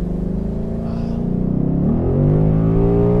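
A Ford Mustang V8 engine idles with a deep, steady rumble, then revs up into a louder, rising growl that holds near and strong toward the end, with no talking over it.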